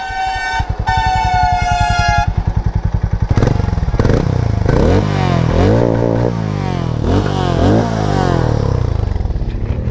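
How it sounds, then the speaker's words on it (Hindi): A 440 motorcycle, either Harley-Davidson X440 or Hero Mavrick 440, cranks with a beeping starter chime and rapid whirr, then catches and idles loudly close by, its exhaust rising through several sharp revs before settling. "तो सबसे पहले करते हैं इसको स्टार्ट एंड एग्जॉस्ट साउंड सुनते हैं।"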